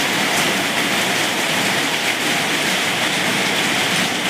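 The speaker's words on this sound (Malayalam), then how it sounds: "ഇവിടെ ഭയങ്കര മഴയാണ്." Steady, dense rushing hiss of heavy rain pouring down, loud and unbroken throughout with no voices.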